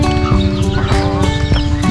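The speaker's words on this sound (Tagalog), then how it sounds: "tandang na pabo" A tom turkey calls close by with rapid, repeated gobbling pulses over farmyard background, loud and continuous across the short span.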